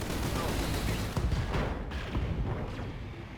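A Battletech mech unloads all of its weapons at once in a video game, a dense burst of overlapping booms and rapid gunfire cracks rolling on for several seconds.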